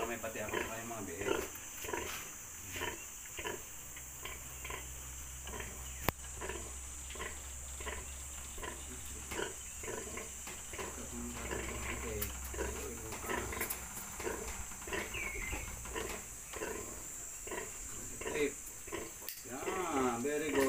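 Newborn piglets and their mother pig at a farrowing, with faint squeals and grunts scattered through a steady hum, while people talk over them throughout.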